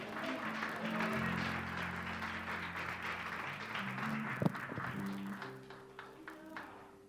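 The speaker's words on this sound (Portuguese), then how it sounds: "Dá uma salva de palmas ao Senhor." Church congregation claps during an online worship service, a moderate wash of applause over a sustained musical tone from an instrument, fading toward the end.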